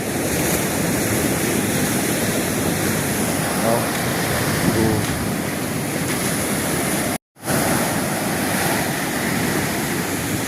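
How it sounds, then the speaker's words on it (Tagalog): Fairly large waves lap and wash against a riverbank in a continuous rushing roar, mixed with wind buffeting the microphone, broken by one brief moment of silence. "Medyo may laki pa ho ng alon,"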